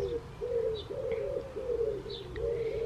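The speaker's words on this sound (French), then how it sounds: "J'ai les tourterelles qui sont en train de chanter là" Turtle doves coo softly in a repeating rhythmic pattern, a few calls in succession, with faint chirps of other birds in the background.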